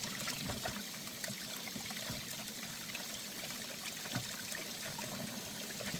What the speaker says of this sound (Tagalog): Ayan, hugasan natin.